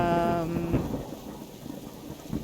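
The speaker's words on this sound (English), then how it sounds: "Very rainy day." A rumble of thunder over steady rain in the survival video game Subsistence, the thunder loud at first and fading into a constant hiss of rainfall.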